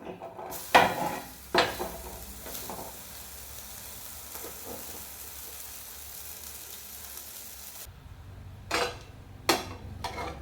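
Buttered bread toasting in a pan for a tofu sandwich gives a steady, faint sizzle throughout, broken by a few sharp clinks and scrapes at the start and again near the end as the slice is turned.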